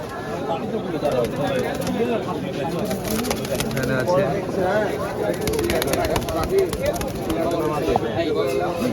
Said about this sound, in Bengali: এখানে কিছু গিরিবাজ কবুতর আছে